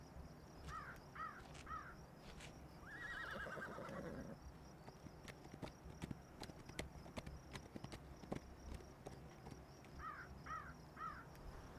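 Horses neighing several times and hooves clip-clopping across a rural barn setting, with whinnies near the start and again near the end over steady hoof steps and outdoor ambience.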